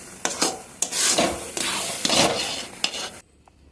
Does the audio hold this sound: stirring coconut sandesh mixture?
yes